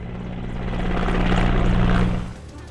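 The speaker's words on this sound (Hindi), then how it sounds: "अहमदाबाद में भी हॉस्पिटल पर हेलीकॉप्टर से बरसाए गए फूल।" A helicopter flies over a hospital in Ahmedabad while flowers are showered from it, its rotor and engine giving a loud, steady drone that swells and then fades near the end.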